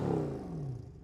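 A Mercedes-AMG C63 W204's deep engine roars loudly and its pitch slides steadily downward as the revs fall away, heard alone at close range.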